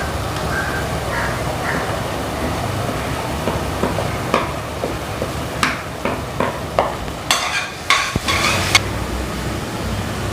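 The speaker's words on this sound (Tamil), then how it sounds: "இந்த பச்சை வாசனை போகிற வரைக்கும் இது நல்லா வதங்கணும்" Ginger, garlic and green chili sautéing in a pan with turmeric, chili and coriander powder for tomato rice: steady sizzle under a run of quick, repeated spatula scrapes and taps, close and fairly loud.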